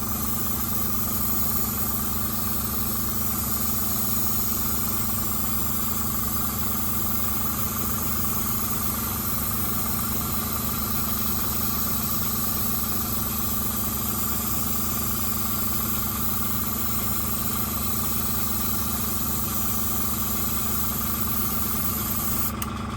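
An airbrush sprays a steady, unbroken hiss of blue sky paint onto a model railway backdrop, close and continuous, with a low hum from the compressor running underneath for the whole stretch.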